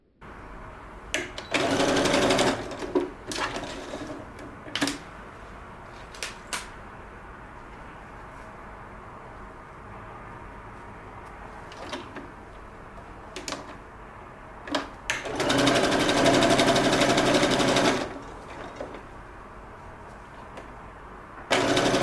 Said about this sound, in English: We're going to carefully grab everything and just sew across this line on top.